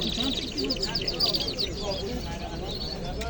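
Canaries sing at the Chorsu bird market, with bright high twittering trills and chirps running through the clip while people talk nearby.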